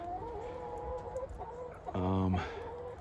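Chickens, including roosters and a hen, clucking and calling nearby, ending with a louder, longer squawk; no one speaks.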